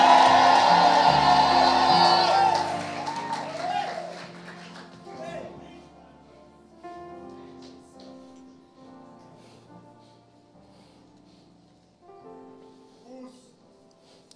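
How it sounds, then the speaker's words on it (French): A church crowd lets out loud cries of joy, shouting and whooping together for about two seconds, then fading into scattered voices and music as someone talks over the quieter remainder. "Oh, si tu es avec moi, pousse des cris de joie."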